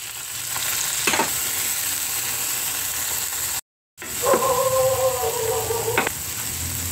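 Onion and tomato sauté in a hot pan, a steady sizzle and fry under occasional stirring and scraping clinks, briefly cut off midway, with no talk.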